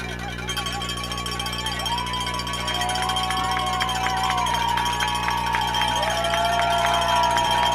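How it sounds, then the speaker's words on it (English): Crowd at a high school football game, Hyde Park vs. TMI Episcopal, a steady loud roar of voices with cowbells clanging and repeated whistles or horns rising above it, swelling slightly. "Crowd getting loud here on third down and short."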